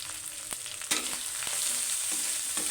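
Turmeric and chili powder fry with onion, ginger and garlic paste in a pan: a bright, steady sizzle that swells after a sharp clatter, with scattered spatula scrapes close by and no voices.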